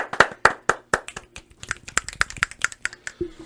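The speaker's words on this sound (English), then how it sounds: "Clap it up." Sharp hand claps ring out in a steady run of a dozen or more, close and fairly loud, with no talking over them.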